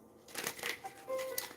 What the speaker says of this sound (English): I'm gonna get like 2 more shuffles and then I'm gonna pull cards